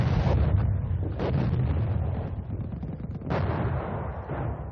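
Trench mortar shells bursting on a Great War battlefield, heavy low booms and rumbling blasts overlapping in a continuous barrage, loud and close with sharp cracks rising out of the roar.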